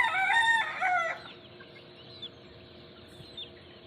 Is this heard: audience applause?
no